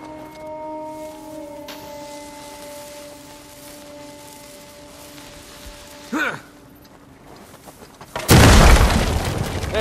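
A low rumble builds under faint voices, then a heavy dynamite explosion in the game Uncharted 4 booms loudly near the end with crackling debris.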